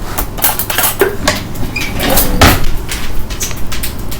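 A honey pork chop mixture being mixed by hand in a bowl, loud close clatter and scraping of utensils against dishware in uneven bursts, with no voices.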